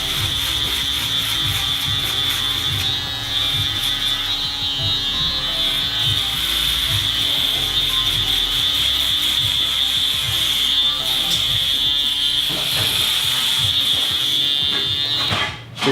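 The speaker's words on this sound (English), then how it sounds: "So when the full shaver goes over it" Andes foil shaver buzzing steadily while cutting hair during a barbershop fade, a loud, close, continuous electric hum with rubbing strokes across the scalp, running without pause until it cuts off at the end.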